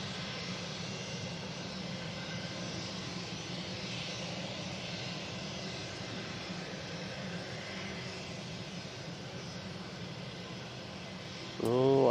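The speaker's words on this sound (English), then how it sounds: "I think we're going to get a really good extended departure on this Emirates" An Emirates airliner climbs away from Manchester Airport on a windy day, a steady, moderately loud jet rumble holding throughout before a sudden louder burst at the very end.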